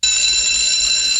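A loud, continuous electronic alarm clock rings steadily and shrill without a break, heard alone in a Saved by the Bell scene.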